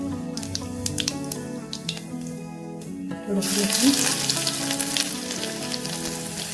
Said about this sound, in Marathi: आपलं तेल गरम झालेलं आहे. त्याच्यामध्ये जिरे घालूया.